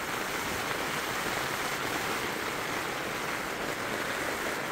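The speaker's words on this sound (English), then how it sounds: "Still too dark, not much to see outside, but you can hear the rain." Heavy rain pours steadily before dawn outside near Imperial Dam in Arizona, a dense, even hiss that never lets up, with no voices.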